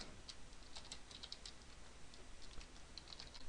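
Keys clatter on a computer keyboard in quick, irregular bursts of light clicks, close and fairly quiet over a steady background hiss, with no talking.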